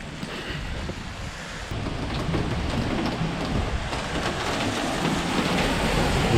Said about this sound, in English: The rain is falling down.